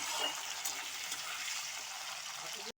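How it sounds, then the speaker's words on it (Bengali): Cauliflower florets rubbed with salt and turmeric frying lightly in oil, a continuous bright hiss and sizzle at moderate level that stops abruptly at the end. "হালকা নুন হলুদ দিয়ে মেখে রেখেছিলাম ওটাকেই দিচ্ছি হালকা ভেজে তুলে নেব"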